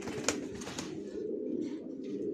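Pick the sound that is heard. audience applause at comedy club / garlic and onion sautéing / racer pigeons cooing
racer pigeons cooing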